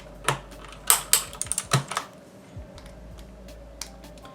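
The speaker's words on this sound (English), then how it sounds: "this is a keycap puller. So let's just use it right here." Plastic keycaps being pried off a cheap mechanical keyboard with blue switches using a keycap puller, heard as a cluster of sharp close clicks and snaps early on, then sparser faint ticks.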